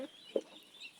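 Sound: hen clucking near ducklings

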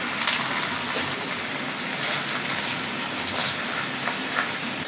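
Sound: taro leaves boiling in water in a pot

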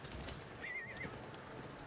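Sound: horse neighing in Diablo IV video game

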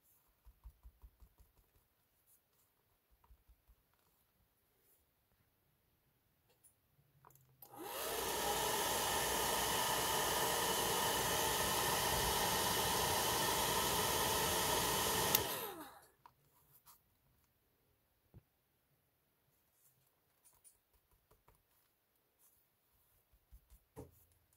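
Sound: hair dryer blowing

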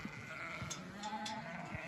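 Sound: sheep bleating

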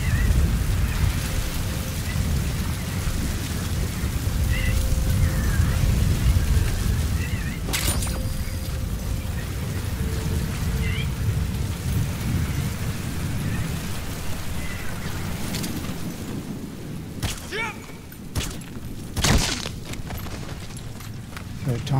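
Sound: thunderstorm with rain in video game Metal Gear Solid V

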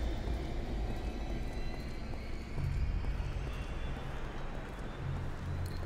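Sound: damaged helicopter running, from video game RAGE

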